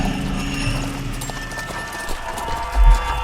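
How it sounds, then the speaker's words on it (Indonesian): Approaching horse hooves in a radio drama sound effect, a steady clip-clop trotting rhythm over dark ambient sound, growing slightly louder toward the end with a low thud. "Sampai suara langkah kaki kudanya pun ikut terdengar."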